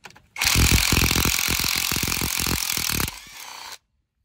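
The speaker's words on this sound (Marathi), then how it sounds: "आता हे पहिला नट काढलाय, हे दुसरा काढूया." A tractor part has its nut worked off with tools, giving a loud, dense stretch of rapid ratcheting and mechanical rattling for about three seconds before it eases off and stops.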